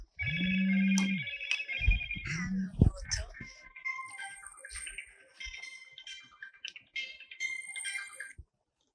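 A mobile phone ringtone rings in repeated electronic tones. A voice and other chatter run over part of it, and the ringing fades out near the end.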